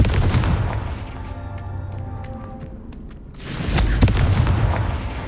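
Spell effects burst loudly in the wizarding video game Hogwarts Legacy: a sharp blast, a fading crackle, then a second heavy explosive boom as the Confringo spell lands.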